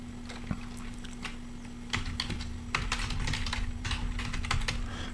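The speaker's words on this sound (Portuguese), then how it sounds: "vamos digitar aqui" Fingers type a sentence on a computer keyboard, a close, quick, irregular clatter of key taps that grows busier toward the end, with a steady low hum underneath and no talking.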